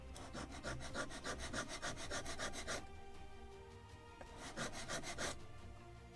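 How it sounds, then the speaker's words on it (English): Rapid back-and-forth strokes of sandpaper rub across the wooden deck of a Model Shipways kit of the 1776 gunboat Philadelphia, coming in two close bursts separated by a brief pause. "I need to sand also here."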